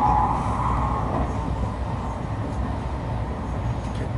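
Steady rumbling inside an evening passenger train running toward Sannomiya, with a constant low roar of wheels and carriage noise throughout and no talking.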